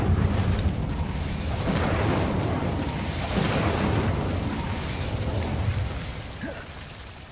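A roaring burst of fire from the Incendio spell in the video game Hogwarts Legacy sustains a dense, rumbling whoosh for several seconds before fading out.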